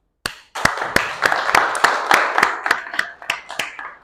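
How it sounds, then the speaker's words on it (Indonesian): In a classroom, a small group applauds a group presentation: about a dozen sharp, fairly sparse hand claps in an uneven rhythm, close by, with no talking. "Mari bersama-sama kita beri aplaus"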